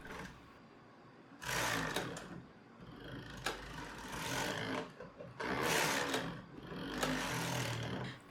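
A Brother knitting machine with a freshly replaced sponge bar runs in bursts, the carriage rattling and clattering loudly across the needle bed in repeated passes with brief quieter pauses between.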